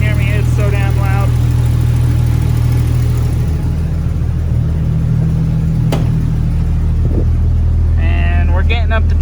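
A Jeep Cherokee engine idles loudly and close by with a steady low drone, while a person talks briefly near the start and again near the end.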